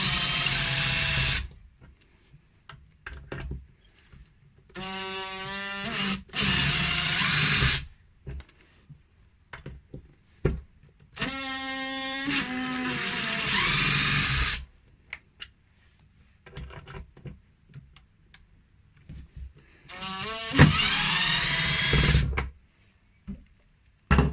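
Short bursts of a small power driver back out the screws of an electric guitar's neck plate, each run a few seconds long with a rising whine, separated by quiet pauses and light handling clicks.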